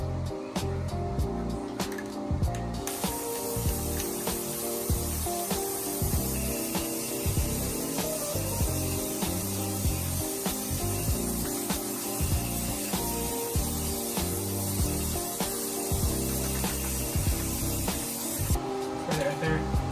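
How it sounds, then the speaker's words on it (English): A sprayer hisses liquid cleaner in short repeated bursts onto a damaged Duramax, pump after pump in an uneven rhythm, close by over a steady background hum. "So let's go ahead and start spraying this down."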